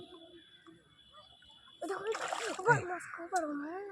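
A hooked fish splashes and thrashes in the water, bursts of close splashing breaking out after a quiet start, with people talking over it.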